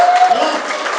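A brief burst of dense crowd applause from an audience welcoming a speaker at a company event, loud and continuous for about a second.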